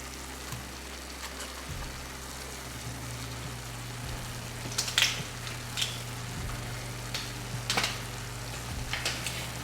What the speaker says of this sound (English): Now I'm going to add a teaspoon of ground cumin.